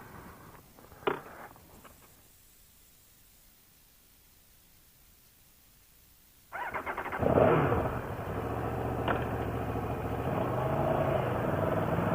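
An Aprilia Tuono V4 1100 Factory motorcycle starts up after a quiet pause, the engine catching abruptly and settling into a loud, rough idle close by.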